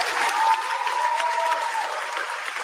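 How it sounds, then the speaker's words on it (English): Church congregation applauding a pastor: a steady, moderately distant wash of clapping hands that holds evenly for a few seconds, with no voices over it. "After that applause"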